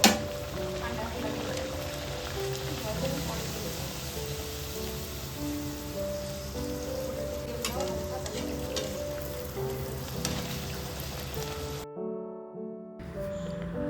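Luchi fry in a pan of hot oil, giving a steady, dense sizzle with background music playing throughout. The sound cuts out sharply near the end.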